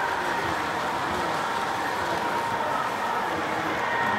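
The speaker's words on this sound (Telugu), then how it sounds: "ఇట్లా ట్రైన్ వస్తుంది, ఇట్లా తీయాలి కరెక్ట్గా." Model electric trains run on rail tracks with a steady, continuous rumbling whir, even in loudness throughout, and no voices.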